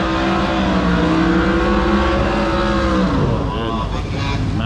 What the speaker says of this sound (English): Massive burnout from that Pontiac. Here we go, big block.